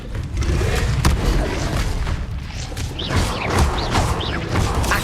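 Spell effects from Hogwarts Legacy, with Expelliarmus being cast, burst out as loud booming impacts and crashes. Sharp cracks and sweeping magical swishes pile up densely over about five seconds, with no talking.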